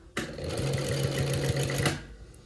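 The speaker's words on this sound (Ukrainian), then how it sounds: "І ось так прокладаємо оздоблювальну строчку по всій лінії притачування" A sewing machine runs steadily for about two seconds, stitching a decorative topstitch along the seam of a sewn-on button placket, its needle thumping in an even rapid rhythm, close and clear with no talk.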